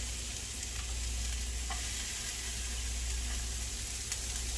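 Half a small yellow onion sweats in a pan with a soft, continuous, fairly quiet sizzle and a faint low hum underneath.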